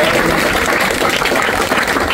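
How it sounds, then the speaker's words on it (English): Steady, dense applause from an audience at a Manchester Workers Party election launch, a continuous wash of clapping at constant loudness with no pauses. "Round of applause, please."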